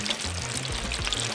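Buffalo sauce poured close up in a steady, continuous stream over crisp, golden fried snapper bites, with a soft trickling wash throughout.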